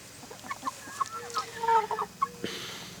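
Hens cluck in a garden with a rooster nearby, a run of short close-up clucks and soft squawks in an uneven rhythm over quiet outdoor background, no speech.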